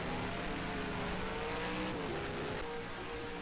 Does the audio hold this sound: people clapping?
no